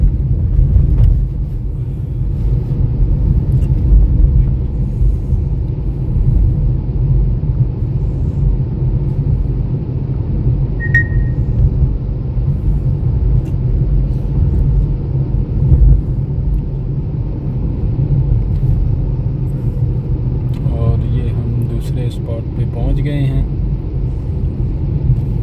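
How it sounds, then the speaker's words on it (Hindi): A car engine rumbling steadily at low volume throughout as the car is turned around near Holland Pond in Massachusetts, with faint wind and scattered small noises over it. "गाड़ी टर्न करके लेके आता हूँ"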